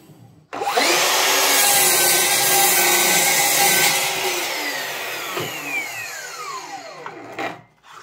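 A Bosch Biturbo GCM18V-216 cordless miter saw with its stock 24-tooth blade cutting through OSB board: a loud close motor roar and rasping bite into the wood, then the whine winding down after the cut.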